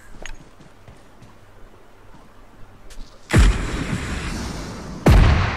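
Rocket launcher blasts in the video game PUBG: two loud, close booms with rolling decay, spaced a couple of seconds apart, following quieter faint pops and gunfire in the distance.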